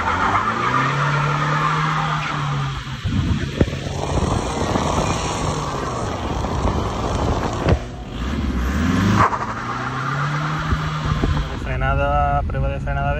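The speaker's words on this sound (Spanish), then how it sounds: "no cuesta nada hacer alguna pequeña salidita quemando un poco de rueda" Tires on a Seat Toledo 1.9 TDI squeal loudly through a burnout, with a rough, roaring engine underneath, shifting skids and a brief rise in pitch near the end.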